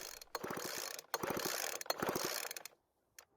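Three quick pulls on a blower's small-engine recoil starter rope, engine stuck, each a whirring, rattling rasp, followed by a short silence.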